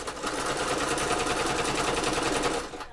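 A sewing machine runs steadily at speed, its rapid needle stitching forming a continuous loud whirring chatter for nearly three seconds before easing off, with no talk over it.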